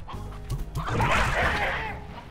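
Chickens clucking in the video game Slime Rancher, a quick run of short clucks followed by a louder, fluttery burst of squawking.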